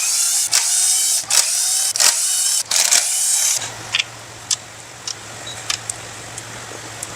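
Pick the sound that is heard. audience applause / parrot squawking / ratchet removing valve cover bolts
ratchet removing valve cover bolts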